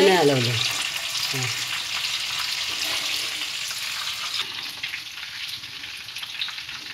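Banana chips frying in hot oil give a steady, dense sizzle that fades slightly over time, with a few faint clinks and bubbling bursts near the start.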